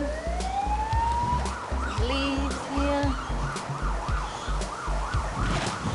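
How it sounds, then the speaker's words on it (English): Emergency vehicle sirens wail with a rising tone, then cycle in a fast, repeating yelp, fairly close over traffic rumble, with a brief spoken remark. "Sirens going up again."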